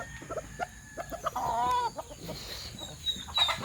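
Roosters with blue leg rings cluck close by on a farm, a series of short, irregular clucks and one drawn-out squawking call, with faint bird chirps in the background.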